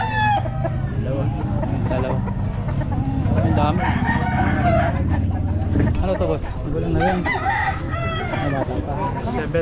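White Kelso roosters crow repeatedly at a busy pet market, their calls rising over a steady crowd babble and nearby talk, with clucking fowl around them.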